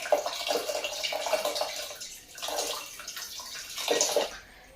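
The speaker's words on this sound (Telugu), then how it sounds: "నానబెట్టుకున్న చింతపండునంతా కూడా మంచిగా కలుపుకొని పప్పులో అయితే వేసేసుకోవాలి" Soaked tamarind water being poured into cooked dal while making sambar, a gushing, splashing pour in several uneven surges, moderately close and fairly soft, with no talk.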